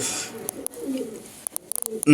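A male racing pigeon coos softly and close by, its low murmuring under faint voices, followed by a quick run of sharp clicks and flutters near the end.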